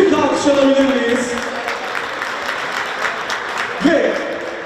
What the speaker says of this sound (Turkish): Büyük alkış alabilir miyiz?